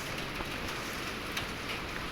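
Rain falls steadily in a close, constant hiss of drops, with no voices.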